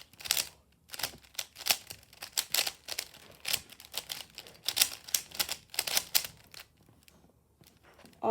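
An old world-record speedcube being turned quickly, its plastic layers clicking and clacking in rapid, irregular bursts of twisting close to the mic with corner cutting.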